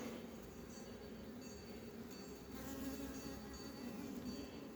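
A dense, steady hum of many honeybees fills a hive opened for a swarm inspection, continuous and close, with no talking over it.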